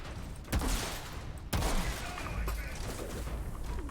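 Gunfire in the shooter game Outriders, two sharp loud shots about a second apart followed by a softer third, with a steady rumbling game background throughout.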